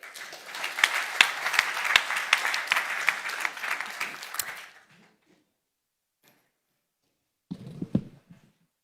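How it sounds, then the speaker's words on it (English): Applause at a climate adaptation event in Nairobi: a room of people claps with distinct sharp hand strikes for about four seconds, fades to silence, then a short burst of sound returns near the end. "A big applause to all of them."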